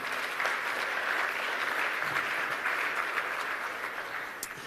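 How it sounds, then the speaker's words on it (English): An audience applauds steadily at a basketball award ceremony, a dense and even wash of clapping from many hands that fades slightly at the end. "I think we can get him a round of applause."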